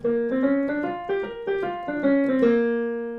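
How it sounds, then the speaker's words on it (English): A single instrument plays a scale as a run of clear, separate notes moving up and back down, ending on a long held tone that fades. "One is the major blues scale, which sounds like this."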